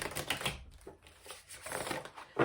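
Tarot cards being shuffled by hand: soft, irregular riffling and flicking sounds, close and fairly quiet, in several uneven bursts with no speech.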